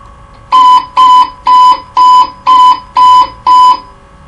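Dash 8-400 cockpit altitude alert: seven identical electronic beeps at a steady twice-per-second pace, each a short clean tone, loud and close with no talk.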